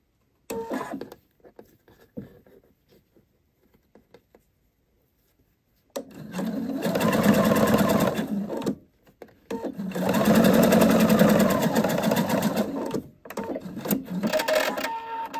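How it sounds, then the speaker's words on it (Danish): Sewing machine stitching two collar pieces together with a zipper, running in two long steady bursts with a brief pause between, close and fairly loud, with no talk. "Så fik jeg syet mine to kravdele sammen."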